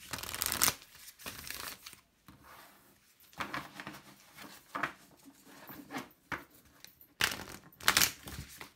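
Tarot cards being shuffled by hand in repeated riffling bursts, crisp papery flutters separated by short pauses, close up with no voice over them.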